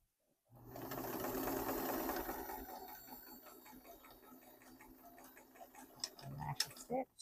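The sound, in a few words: sewing machine stitching a pillow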